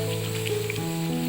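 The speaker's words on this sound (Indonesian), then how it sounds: "ini kita masak dan tumis sampai bumbunya benar-benar matang" Soto Betawi seasoning paste with cinnamon, cardamom, cloves and star anise sautéing in a pan, a close, steady wet sizzle and bubbling with faint squishy stirring.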